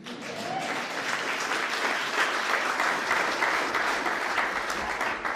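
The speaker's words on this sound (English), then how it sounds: "I better get some applause." Sustained applause from an audience at a presidential World AIDS Day event, dense and steady from start to finish, fairly near and with no talk over it.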